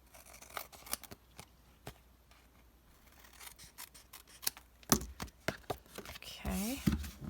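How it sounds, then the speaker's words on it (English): Scissors snipping excess paper at a craft table for a card project, a scattered series of quiet, sharp cuts with light rustling between them. "We're going to just trim that off."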